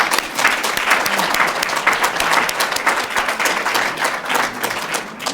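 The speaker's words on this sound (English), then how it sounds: "Let's applaud him for working." An audience at a spiritual talk breaks into sustained applause for a committee chair. The clapping is dense and continuous with uneven surges, loud and close, and no speech is heard over it.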